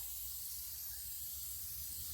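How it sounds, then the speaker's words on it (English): Baking spray hissing steadily from a can as it coats cake pans, a soft continuous spray that runs unbroken for about two seconds with no voices. "And I'm going to just spray these pans liberally."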